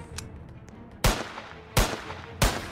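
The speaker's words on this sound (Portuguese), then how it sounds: "Eu tô atirando pra cima." Three loud gunshots from shooting upward in the Roblox game, spaced roughly a second apart, each a sharp close crack with a short decaying tail over a low background.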